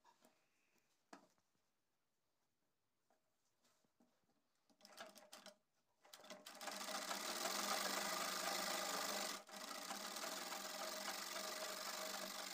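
A sewing machine stitches the bottom hem of a palazzo leg. After some quiet handling noises it starts at about six seconds and runs steadily and loud with a dense mechanical whir, briefly dipping once before carrying on.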